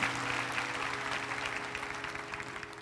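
Church congregation applauding during a special worship service, a steady wash of clapping held at moderate level throughout, with a low sustained hum of organ or amplified tone running underneath.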